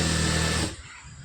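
A sewing machine runs a long straight seam along a folded three-inch blue fabric strip, giving a steady close whir that stops partway through and leaves near-silence.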